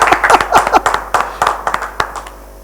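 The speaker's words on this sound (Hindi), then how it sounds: "तालियां, ये बात है।" Scattered audience clapping at an annual community meeting, a burst of distinct sharp hand claps in uneven rhythm that thins out and stops within a couple of seconds.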